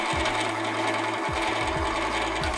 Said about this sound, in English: Let's give it some throttle. Yes. Okay, so axle's moving properly.